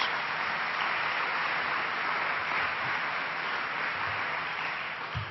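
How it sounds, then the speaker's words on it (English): Steady, dense applause from a large crowd at a gun legislation signing event in New York, sustained evenly for several seconds with no voices on top. "Give them a round of applause"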